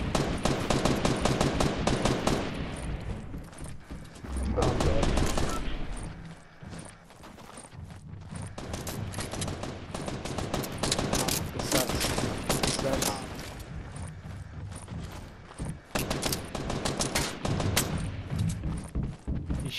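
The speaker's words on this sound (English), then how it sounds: "Shooting his own teammate, what an idiot." Fortnite gunfire bursts out in dense rapid volleys, loud and near. Sustained automatic fire gives way to scattered single shots across a long stretch of gameplay.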